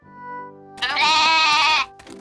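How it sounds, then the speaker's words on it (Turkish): A goat lets out one loud, wavering bleat lasting about a second, preceded by a soft low tone and followed by brief rustling. "Keçi, Niloya'yı gördün mü?"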